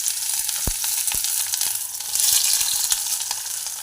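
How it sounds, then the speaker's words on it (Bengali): Chopped onions sizzle and fry in hot oil in a wok, a continuous crackling hiss broken by sharp pops and the scrape of stirring. "এই তেলের মধ্যে আমি এখন দিয়ে দেব পেঁয়াজ কুচিগুলো।"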